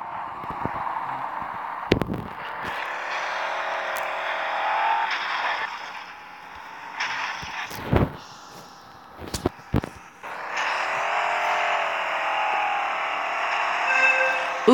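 An engine drones at high revs as a car slides around off-road, its pitch rising and falling with a few sharp knocks and bumps between steady stretches, loud and near.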